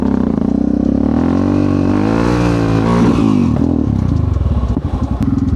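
A Yamaha XT660X motorcycle engine revs loud and close during a wheelie, rising in pitch, holding, then dropping back with a crackling, uneven fall-off at the end.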